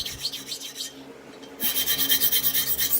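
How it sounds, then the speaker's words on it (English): A warped straight razor is rubbed back and forth on a sharpening stone to set its bevel. Rapid rhythmic rasping strokes break for a brief pause, then resume louder and steadier. "what we're going to do is continue to set the bevel, never staying in one spot too long"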